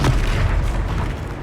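A Confringo fire spell explodes in the Hogwarts Legacy video game, a heavy deep boom with a rumbling tail that fades over about a second, loud and close.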